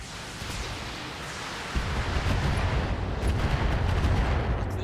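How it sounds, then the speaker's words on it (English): LRM missiles fire in a BattleTech video game as a dense, rumbling roar of launches and blasts. The sound swells louder after a sudden burst partway through and continues without talk. "if we just keep hitting it round after round with LRMs"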